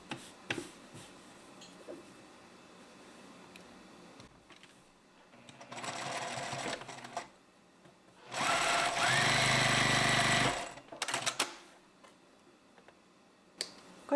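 A sewing machine bastes slash-pocket facing and pocket-bag fabric 5 mm from the edge, with a short whirring run followed by a longer, louder burst of stitching and quiet handling between.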